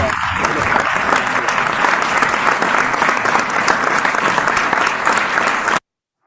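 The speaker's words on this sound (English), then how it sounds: "A big round of applause for." Large audience at a caregiver award ceremony breaks into sustained, dense applause, loud and continuous for several seconds before cutting off abruptly.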